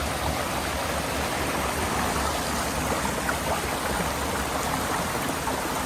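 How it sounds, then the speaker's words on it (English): Waterfalls and a flowing stream near a small bridge give a loud, steady, broadband rush of water that continues without a break, with no voices. "Pretty cool waterfalls."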